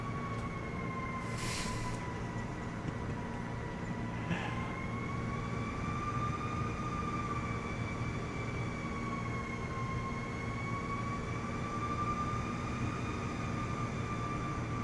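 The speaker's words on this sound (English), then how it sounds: "Can sure hear that plane now." A Cessna 185F piston engine in flight in MSFS 2024 makes a steady, droning hum with sustained tonal whine. It runs continuously at moderate level, with a couple of brief bursts layered over it.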